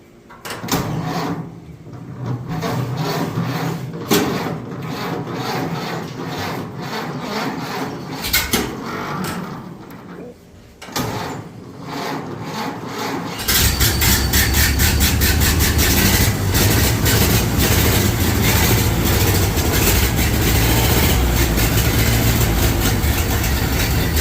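Ford Model A truck engine: several seconds of cranking and mechanical clatter, then at about the midpoint it fires and settles into a loud, steady rough idle, close by with no talk.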